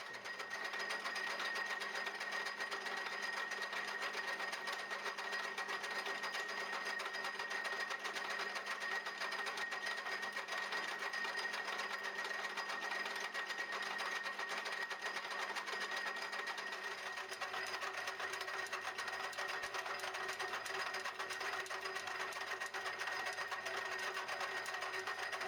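Steady mechanical whir of a milling machine facing a scrap metal block held in paper soft jaws for a homemade toolholder, continuous and loud throughout, with the tone dropping slightly near the end.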